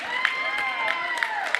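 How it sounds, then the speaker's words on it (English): A fired-up home crowd at a Reed High School girls' varsity basketball game cheers and claps steadily, with sharp whoops and squeaks over the noisy gym. "This Reed crowd is very fired up for this tonight."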